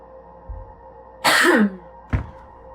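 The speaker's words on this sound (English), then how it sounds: "Do a little cough." A single sharp, harsh cough from a character in the game The Séance of Blake Manor, followed by a shorter, softer second cough, over a quiet background hum.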